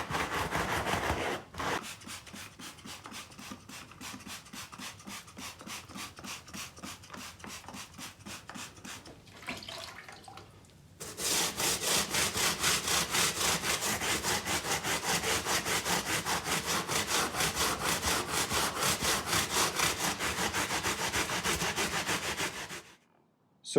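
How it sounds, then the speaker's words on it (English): A vinyl bench seat scrubbed with water using a brush, giving fast rhythmic back-and-forth rasping strokes, a softer stretch, a short pause, then a louder sustained run of vigorous scrubbing close up, with no talking. "So scrubbing it with water, I actually think you can definitely see the dirt and grime a lot better on this area."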